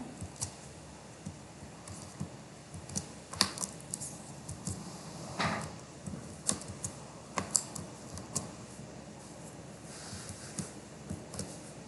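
Python code is typed on a computer keyboard in a quiet room, with irregular bursts of soft, close key clicks and short pauses between them.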